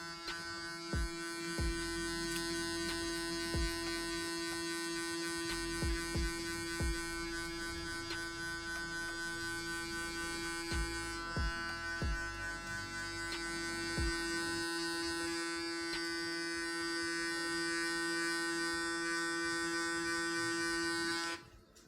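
Electric hair clippers set to 2 mm buzz steadily at close range through a men's French crop haircut, with a constant hum, brief knocks of handling and a slight shift in tone as cutting continues.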